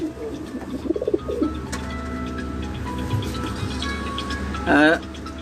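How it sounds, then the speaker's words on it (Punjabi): Breeder pigeons coo in a loft, low soft calls repeating near and throughout under steady background noise, with a louder burst of sound near the end; voices talk over them. "ਇਹ ਕਾਜ਼ੀ ਖਾਲਾ ਸਾਹਿਬ ਹੋਰਾਂ ਦੇ ਬਰੀਡਰ ਕਬੂਤਰ ਨੇ ਜੀ"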